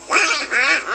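A duck quacks twice in quick succession on a Cinderella story record, loud and close with a nasal, raspy tone, alone without talk.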